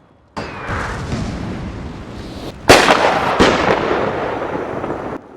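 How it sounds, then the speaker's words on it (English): Artillery duel in Napoleon: Total War, cannon fire booming in a dense rumbling barrage, with a sharp louder blast midway followed by further heavy reports and rolling echoes. "we're just having a duel here of artillery"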